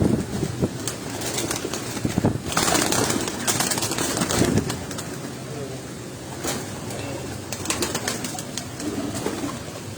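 Pigeons kept by the late Ustad Mir Asghar in Gujranwala, cooing and calling near the mic with bursts of flapping wings, while people talk intermittently over the birds.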